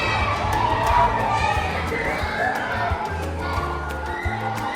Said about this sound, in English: I don't want to hear kids screaming all day, so let's close the window